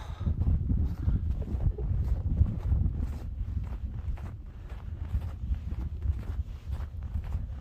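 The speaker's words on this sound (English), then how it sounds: "It's probably about 30 degrees and just a gentle wind" Gentle wind blows outdoors on a cold winter day in rural Montana near old cabins, a steady low rumble of breeze buffeting the microphone with soft crunching steps throughout.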